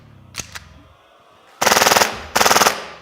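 A Tokyo Marui Extreme 45 airsoft gas pistol fires on full auto in two loud, rapid bursts of snapping shots. A couple of sharp clicks come before the first burst.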